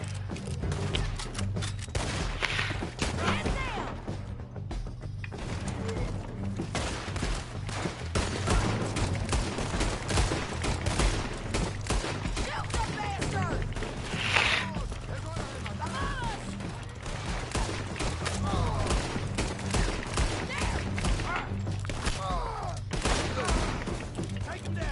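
Rapid bursts of gunfire in the Western game Red Dead Redemption 2, repeated sharp shots and volleys crackling throughout with occasional louder booms, while someone talks over the action.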